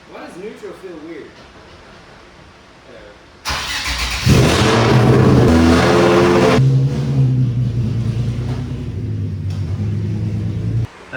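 A car engine cranks and catches, followed by a loud, steady idle with some revving, starting after a few seconds of quieter background; a voice is heard briefly at the start.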